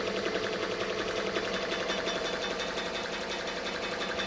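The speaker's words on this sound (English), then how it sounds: "This thing is embroidering on a belt." A Ricoma MT-1501 commercial embroidery machine stitching into a thick leather belt gives a rapid, loud, continuous mechanical chatter at close range, with a faint rubbing note and no pauses.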